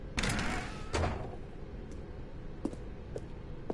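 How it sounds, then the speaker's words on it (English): A red door opens in the video game The Stanley Parable: two heavy, whooshing bursts come close together, then quieter clicks and light knocks fade out. "Stanley walked through the red door."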